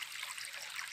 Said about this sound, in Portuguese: só ouvindo o barulho das águas